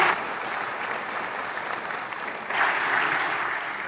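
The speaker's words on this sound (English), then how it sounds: "Let's give them a round of applause." Audience applause fills a seminar hall at a public talk, a dense steady clapping that swells louder partway through and carries on without voices.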